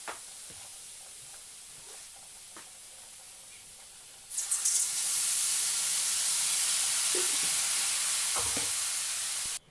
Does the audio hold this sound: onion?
yes